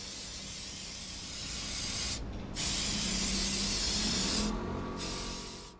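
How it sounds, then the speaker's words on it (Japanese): A spray gun spraying flexible paint in a craft workshop, hissing in two long bursts with brief pauses between them, close and steady. "柔軟性のある塗料をスプレーします"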